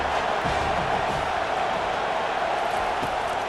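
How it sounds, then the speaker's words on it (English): Constant roar of a stadium crowd in the EA Sports College Football 25 video game, a dense, steady wall of cheering noise with no talk over it. "This crowd bringing the energy and noise early."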